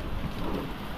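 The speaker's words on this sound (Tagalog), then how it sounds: "inabot na tayo ng malakas na ulan" Heavy rain pours in a dense, steady roar with no breaks, loud and close, over about a second.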